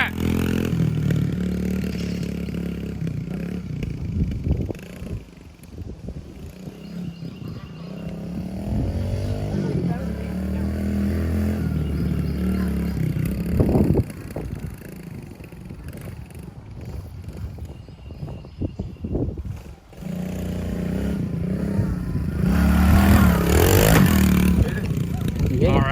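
A pit bike engine revs and labors as a rider circles a backyard dirt track, rising and falling through the gears, loud and close, with people talking over it.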